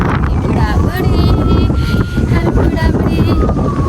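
Steady wind rumbles and buffets loudly throughout at a high viewpoint at Gatlinburg SkyPark, a constant low roar with faint voices mixed in underneath.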